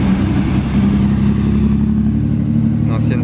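A Ferrari 488 Pista drives past, heard from behind glass as a steady mid-pitched engine rumble with a voice talking over it near the end.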